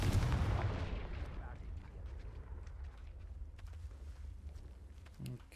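A Confringo blasting spell bursts in Hogwarts Legacy, the PC game, with a loud, deep boom at the start that rolls into a long rumbling decay, followed by scattered small crackles and a brief thump near the end.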